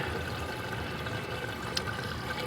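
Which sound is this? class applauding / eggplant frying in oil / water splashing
water splashing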